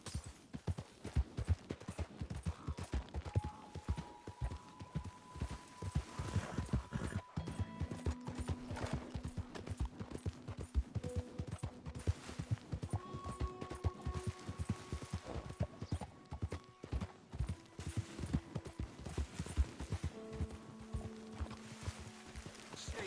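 Horse hooves clip-clop in a steady walking rhythm throughout the Red Dead Redemption 2 video game, with faint sustained musical tones underneath and no talk.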